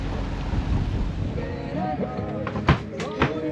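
Wind gusts rush across a sailing boat at sea during a transatlantic crossing, a steady roaring buffet with sharper thumps and slaps near the end.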